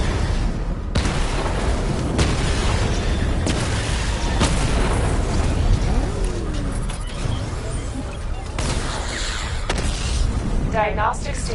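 Missile barrage explosions in Batman: Arkham Knight, a dense run of booming blasts and rumbling impacts that goes on throughout, loud and close, with a game voice speaking over parts of it.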